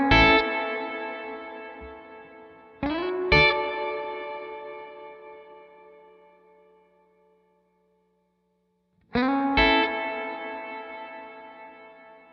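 Electric guitar through a Wampler Ethereal delay and reverb pedal: three struck chords, each ringing out and fading slowly in long echoing repeats and a reverb wash, with silent gaps between.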